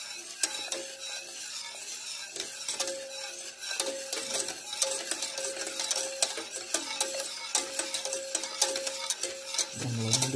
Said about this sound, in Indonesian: jadi kita aduk-aduk terus, jangan lupa tengahnya juga diaduk, pinggirnya sampai mengental